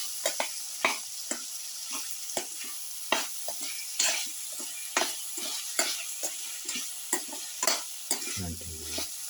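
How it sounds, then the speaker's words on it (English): Tomatoes frying in a pan while being stirred: steady sizzling under repeated scraping strokes of a utensil against the pan, fairly regular and close, with a brief low clatter near the end. "Stir thoroughly."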